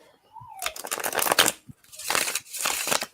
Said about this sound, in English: I haven't heard that shuffling ASMR in a while.